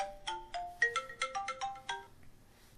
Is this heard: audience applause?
no